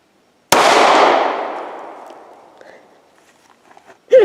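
A single loud Glock 43 pistol gunshot cracks out close by and rings away over a couple of seconds, followed by quiet handling noises and a brief voice at the end.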